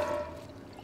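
Water is poured into a glass, a short bright trickling stream with a faint rising tone that fades quickly, close by and heard without talk.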